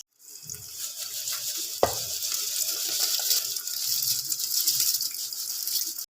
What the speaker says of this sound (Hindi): चावल हमने इसमें ऐड कर दिए और अब ये पकना स्टार्ट हो गया है